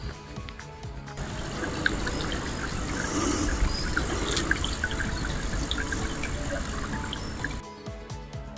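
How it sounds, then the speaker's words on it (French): Small streams trickle steadily through countryside in the Bugey region, a continuous close wash of running water with scattered bright drips throughout. "Là, c'est truffé de petits ruisseaux."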